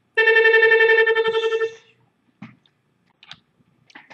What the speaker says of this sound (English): Sorry for that phone call in the middle.